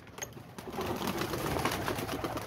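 Pigeons in a loft, with soft cooing and fluttering mixed into a steady, dense background rustle, fairly close and continuous.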